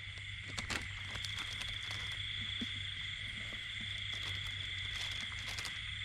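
Steady chorus of calling frogs mixed with insect trills, a continuous night ambience with a few sharper calls standing out near the start.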